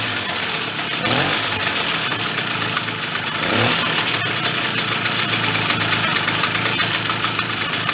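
A mini Harley motorcycle engine, stored unused for over 20 years, idles steadily and fairly close, with a couple of brief revs rising in pitch before it settles back to a busy, buzzing idle.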